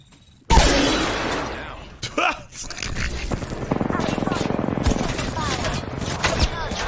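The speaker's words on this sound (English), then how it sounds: "Throwing thermite grenade." A thermite grenade is thrown in Apex Legends season 4 and bursts with a sudden loud crash, followed by sustained crackling and sizzling, with voices talking over it.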